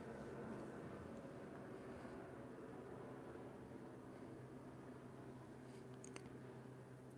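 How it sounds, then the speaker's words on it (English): Helicopter passing overhead during a quiet indoor makeup session, a steady low droning rumble that holds throughout without speech. "Helicopter. I apologize."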